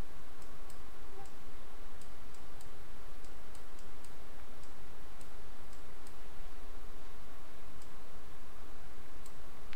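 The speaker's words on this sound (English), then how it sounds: "I'm using my arrow keys to do this on the keyboard." Computer keyboard arrow keys pressed during an animation tutorial, giving sparse, light clicks scattered across the stretch at an irregular pace over a steady background hum, with no talking.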